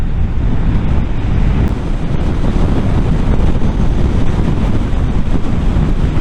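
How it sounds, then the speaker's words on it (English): Steady roaring wind buffets the microphone while riding a Honda CBR650R E-Clutch motorcycle, with a faint engine drone buried underneath the constant rush of air, continuous and loud throughout. "The only thing I can really hear is the wind and a little bit of the engine noise."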